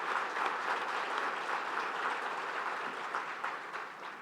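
A crowd at a breast cancer charity walk kickoff applauds media partners, giving steady, sustained clapping that stays even throughout and fades only slightly toward the end.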